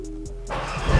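A Mercedes A45s AMG engine cranks and fires up, a quiet idle hum giving way to a louder, rising rumble as the motor catches, close to the microphone.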